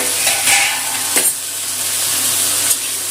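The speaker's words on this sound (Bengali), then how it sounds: "ঢেঁড়সটা একটু ভাজা ভাজা হয়ে গেছে" Okra fries in a pan with a steady, bright sizzle, broken by a few short scraping knocks as it is stirred; no voices.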